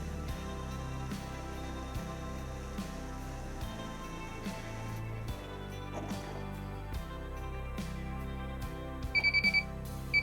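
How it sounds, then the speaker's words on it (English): A Miele Honeycomb Care washing machine runs under a steady drone, then near the end its end-of-cycle beeper gives a short run of clear, rapid electronic beeps close by. "that's how to adjust your final beeper settings on your Miele Honycombe Care washing machine"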